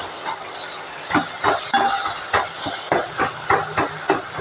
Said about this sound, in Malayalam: തക്കാളി നന്നായി വഴന്നു വന്നുണ്ട് ഇത് ഇളക്കി കൊടുത്ത്